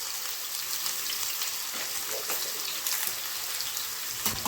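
Carrots and other vegetables for couscous fry and get stirred in a pan, a dense, constant rain-like sizzle close by, with faint scraping of the utensil underneath.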